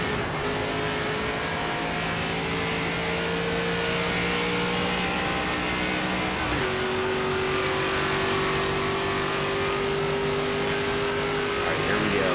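Race car engine from NASCAR 25 practice laps, a steady sustained drone with a pitch shift midway, constant and loud, with talk over it.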